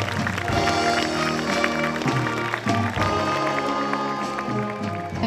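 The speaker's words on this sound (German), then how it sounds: "Applaus" Audience applause rises at the Wiesmoor Blütenfest flower festival in September 2019 as a candidate is introduced, a steady wash of clapping blended with music for several seconds.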